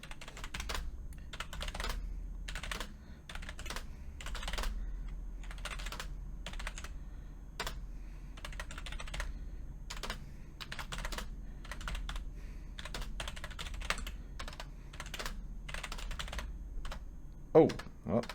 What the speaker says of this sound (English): try to type this as fast as I can